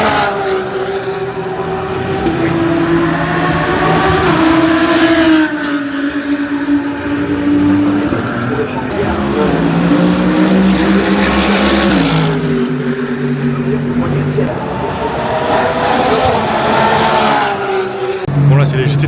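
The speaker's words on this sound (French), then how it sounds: "c'est les GT3 du coup ça fait un bruit de malade mental" Loud GT3 race car engines roar and whine past on a track, pitch rising and falling as cars shift and speed by, with voices talking over the din.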